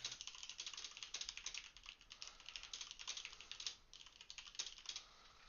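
Rapid, steady computer keyboard typing, dense clicky keystrokes close up and continuous throughout, with brief pauses and no talk.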